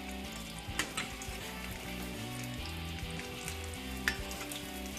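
Bihari tarua frying in a pan over medium heat, a dense continuous sizzle with occasional stirring scrapes and a few sharper clicks, fairly close and steady, with no voices.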